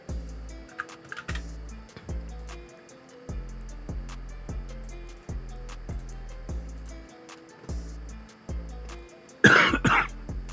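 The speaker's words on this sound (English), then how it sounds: "Pardon me for the cough." A single loud cough bursts out near the end, close to the mic, over a steady repeating low electronic pulse and faint clicks of background noise.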